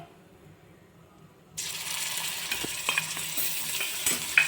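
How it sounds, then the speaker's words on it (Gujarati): Ginger, green chili and garlic paste hits hot oil with whole spices in a pan, breaking into a loud, steady sizzle after a quiet moment, with a few scraping stirs in the sizzle. "હવે ફ્રેન્ડ્સ એને સાતડી લેશો એને આપણે ગોલ્ડન બ્રાઉન થવા દઈશું"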